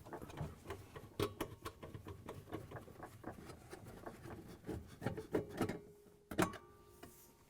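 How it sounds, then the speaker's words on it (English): Screws being backed out with a 1/4-inch nut driver from a GE auger motor assembly (WR60X10259) held to its brackets, heard as close, irregular scraping and ticking clicks with small knocks, no talk. "grab the 1/4" nut driver, take out the 4 screws that hold the assembly to the brackets"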